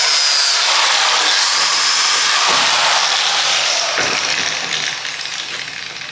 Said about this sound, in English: If you have a look when we grind it,